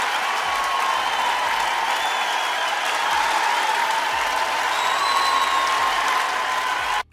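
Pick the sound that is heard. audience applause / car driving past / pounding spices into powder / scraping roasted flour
audience applause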